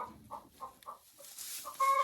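Hens in an unheated chicken coop give a string of soft, rhythmic clucks close by, finishing with a louder, higher squawk.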